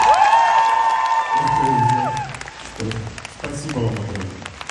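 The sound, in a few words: concert audience applauding and cheering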